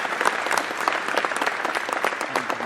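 A large crowd at the opening ceremony of the Anthrocon 2019 fan convention in Pittsburgh breaks into loud, continuous applause, dense overlapping claps sustained throughout with no speech.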